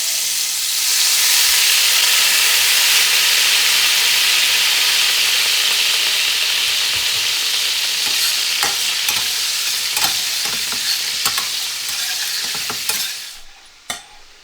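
Brown butter with capers and lemon juice sizzling loudly and steadily in a hot pan for trout meunière, a dense close hiss with occasional crackles and spatters that fades out near the end.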